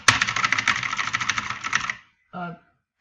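Rapid keyboard clicks clatter for about two seconds, then stop; a brief voice sound follows after a short pause.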